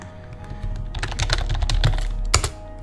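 Rapid typing on a computer keyboard while entering a folder name in Unreal Engine, a busy run of clicky keystrokes with a louder burst near the end, close and alone without speech.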